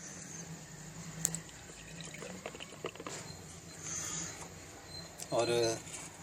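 Soda poured from a bottle through a small hole punched in its cap into glasses, a brief trickling fill and liquid splash rising near the end, close by over a low steady background hum.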